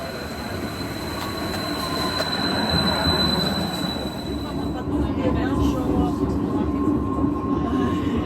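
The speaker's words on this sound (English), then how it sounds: "take our tram ride back to the city" A tram ride in Bergen, Norway rolls along with a continuous rumble of wheels on rails, high metallic squeals and whines rising over the steady clatter, heard from on board.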